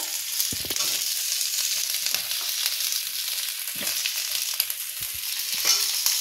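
Taro, radish and potato pieces fry lightly together in a pan for fish-head and spinach chachra, a steady broadband sizzle with occasional low knocks of stirring, close and even throughout.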